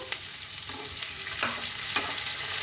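Chopped tomatoes land in a pan of onions sautéed pink over medium gas for a kaju capsicum masala, giving a steady close sizzle and frying hiss with a few brief louder bursts of stirring.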